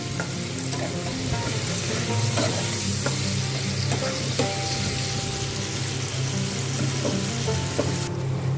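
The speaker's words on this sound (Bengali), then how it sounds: "ওই তেলেই আমি আলুগুলোকে তুলে ওই তেলেই পেঁয়াজ কুচি দিয়ে দিলাম" Chopped onions frying in oil left from fried potatoes, a continuous close sizzle with repeated scraping and clattering of a spoon stirring in the pan.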